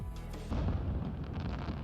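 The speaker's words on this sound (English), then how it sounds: "Oh, the fireworks!" Fireworks explode in an anime episode as a deep boom breaks out and then rumbles on over a musical background, heavy and fairly loud with no talk.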